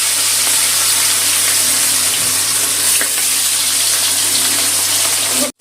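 Pieces of katla fish fry lightly in hot oil, producing a loud, continuous broadband hiss of sizzling that holds steady before cutting off abruptly at the end.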